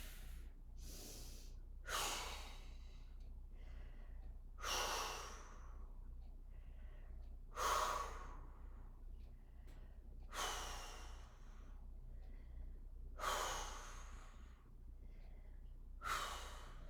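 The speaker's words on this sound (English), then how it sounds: "Keep breathing here." Heavy, rhythmic breaths roughly every three seconds during a held core exercise, each one a loud airy exhale with quieter gasps between, close and alone with no talking.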